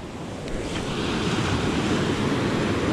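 Ocean waves wash onto a shoreline at a fishing spot, a steady loud surf roar building slightly over the seconds, mixed with wind buffeting the microphone and no talking.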